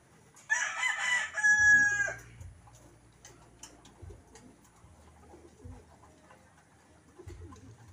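A bird gives a loud, close call with a rough crowing quality, followed by softer low cooing and rustling noises in a quiet space.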